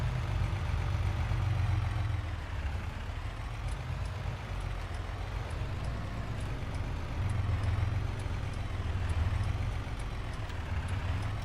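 A car engine labors up a steep hill, a steady low rumble of a medium engine under load that holds constant with slight rises and dips, close and continuous with no talking.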